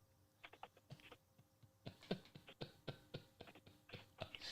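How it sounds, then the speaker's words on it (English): Faint, quick taps of typing on a computer keyboard, in uneven bursts of keystrokes heard from a distance with no talk. "You can hear him typing it in."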